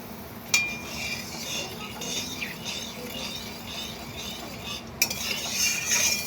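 A utensil stirs ground turmeric through a cooking pan in a steady scraping motion over a faint background sizzle, with two sharp metallic clinks against the pan.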